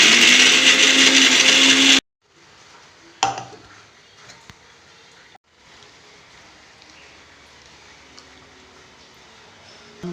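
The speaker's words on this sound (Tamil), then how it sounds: "இப்போ வத்த குழம்புக்கு தேங்காய் அரைச்சிக்கணும்." A mixer grinder runs loud and steady for about two seconds, grinding coconut into a fine paste for vatha kuzhambu in a home kitchen, then cuts off abruptly, leaving faint kitchen clinks and low background noise.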